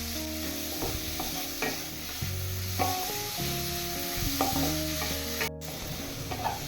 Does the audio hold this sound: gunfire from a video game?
no